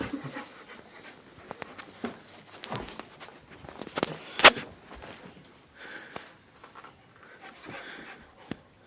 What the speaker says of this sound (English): Why does that dog like those so much?